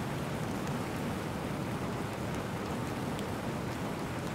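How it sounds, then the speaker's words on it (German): Steady, soft rain falls in the survival video game The Planet Crafter, an even hiss of drops with no voices over it. "Es regnet."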